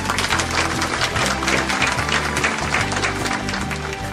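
Audience applause for a singer at the 2012 Oscar de Ouro winners' ceremony: dense, continuous clapping from a crowd filling the whole stretch at steady loudness.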